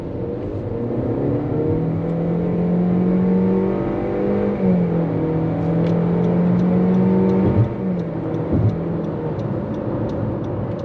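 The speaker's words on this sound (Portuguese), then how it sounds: "Vou aproveitar a saída aqui do pedágio, coloquei no câmbio em modo esporte, pé no fundo." A Honda CR-V Touring 1.5 4x4 (2022) in sport mode pulls away from a toll booth at full throttle, its engine note droning and climbing steadily inside the cabin, with a brief shift dip and no talk.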